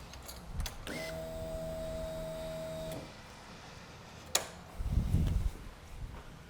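On a Honda CBR954RR, the exhaust valve servo motor whirs for about two seconds with a steady electric hum, followed by a brief click and some nearby handling noise.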